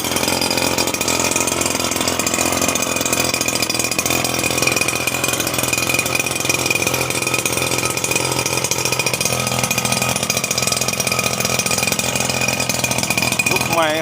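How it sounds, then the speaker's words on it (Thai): A motorized rice seed broadcasting machine runs continuously at a steady, high-pitched engine drone with a faint whine while sowing rice in a paddy field, and someone talks over it throughout. "ไม่ต้องใช้มือหวานแล้วครับใช้เครื่องหวานแล้วครับทุกวันนี้"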